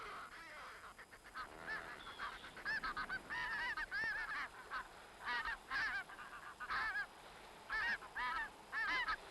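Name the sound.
grey-lag geese honking on North Uist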